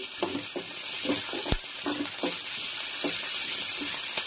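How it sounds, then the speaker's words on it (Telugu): Green chillies, brinjal pieces and peanuts fry in a pan for cucumber chutney. A steady, loud sizzle runs throughout, with soft rhythmic scrapes and stirs and one sharp knock, close and without talk. "ఈ దోసకాయ పచ్చడిలోకి ఒక 5-6 పచ్చిమిర్చిలు, 2 వంకాయ ముక్కలమ్మ వేరుశనగనాలు వేసి వేసుకుంటున్నాను"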